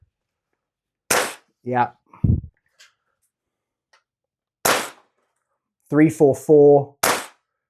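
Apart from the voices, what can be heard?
Double Eagle N4 gas blowback airsoft rifle firing shots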